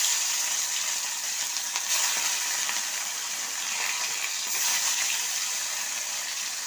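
Parshe fish sizzle and fry in hot mustard oil in a kadai, a steady broadband crackle running continuously and close with no talk over it.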